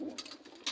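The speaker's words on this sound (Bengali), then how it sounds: "কিছু কবুতর আসলো" Pigeons kept in a home pigeon house give a brief, faint, breathy coo, a soft murmur under light background noise.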